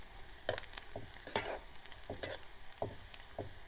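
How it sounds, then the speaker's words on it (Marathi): Turmeric and red chili stirred into rare wild greens in a pan, heard as a series of soft scraping strokes over a faint sizzle, moderately quiet and close with no talking. "थोडीशी हळद टाकू आणि ही लाल मिरची आणि मग ते आपण याच्यात असं मस्तपैकी मिक्स करून घेऊ"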